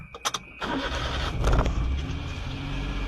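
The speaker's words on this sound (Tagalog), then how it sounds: "Kunin ang susi. Makikita ang susian sa bandang kanan sa likod ng manubela. At i-on ang kotse." A car engine is started with the key: a few short clicks and cranking bursts, then the motor catches and settles into a steady idle close by, without voices.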